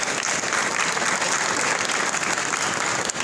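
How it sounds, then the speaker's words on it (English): Steady, dense applause from a conference audience at a cybersecurity panel event, loud and continuous throughout with no speech over it. "Can we please give her a nice warm round of applause?"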